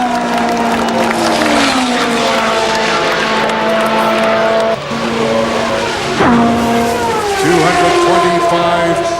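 Indy race cars with a new chassis and Mercedes-Benz engine lap Indianapolis Motor Speedway at the 1994 Indianapolis 500, a loud sustained engine whine with pitch sweeps as cars pass, crowd noise behind.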